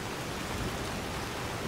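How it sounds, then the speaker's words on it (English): Rain falls in Skyrim Special Edition as a soft, even wash of noise, a constant faint hiss with no distinct drops or voices. "Let's get out of this rain."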